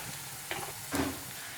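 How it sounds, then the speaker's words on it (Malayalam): Oil hits a hot pan with a steady sizzle, broken by two short scraping bursts close by. "ഞാൻ കുറച്ച് ഓയിൽ ഒഴിക്കുന്നുണ്ട്."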